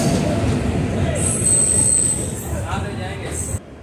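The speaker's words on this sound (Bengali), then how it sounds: "ট্রেন এসে পৌঁছালো কাতাম স্টেশনে" A long-distance train pulls into Kayamkulam station in Kerala, running several hours late, its wheels squealing in high sustained screeches over a heavy rolling rumble, near and loud, ending abruptly.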